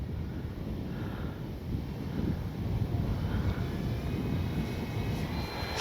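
An FMS Ranger 1800mm RC airplane on its maiden flight drones steadily overhead at a distance, its engine hum mixed with heavy wind rumble on the microphone, continuous and without speech.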